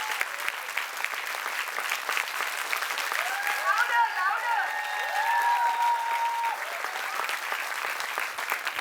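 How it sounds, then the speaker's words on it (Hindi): An audience at a preschool event applauds the children in a sustained, even round of clapping, with voices faintly audible under the clapping. "can we have a big round of applause for our little stars?"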